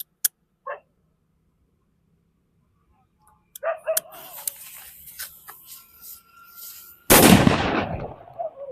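A Krishna-brand "hydro" firecracker lit at night during Diwali, a few sharp pops and crackling, then a loud burst at the end with a sizzling noise tail, fairly close.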